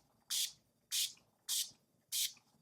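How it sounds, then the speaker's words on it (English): Four short, even hisses from an Urban Decay All Nighter makeup setting spray in the long-lasting version, spaced about half a second apart, close and crisp with quiet between. "we're gonna finish it off with a setting spray, and this is the Urban Decay All Nighter Makeup Setting Spray in the long-lasting version"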